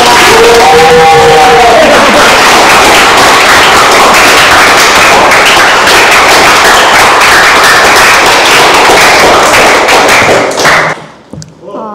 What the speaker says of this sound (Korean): 우리 이예림 청년 나올 때 큰 박수로 환영하겠습니다.